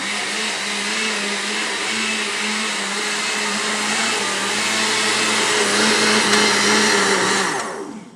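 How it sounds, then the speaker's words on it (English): A blender runs steadily on flan mix, a loud, continuous motor whir holding pitch for about eight seconds, rising slightly near the end before cutting off. "you want to give it another blend. So everything gets mixed"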